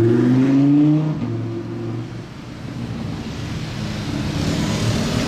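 An Aston Martin DBS Superleggera sweeps past on a Monaco street, its engine loud and close at first with a rising note, then fading into steady traffic hum and wind.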